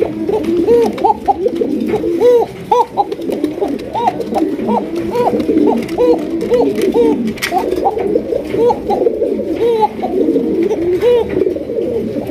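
A pair of Basiraj pigeons, male and female, coo in a steady repeating rhythm, close and loud, the throaty calls overlapping almost continuously.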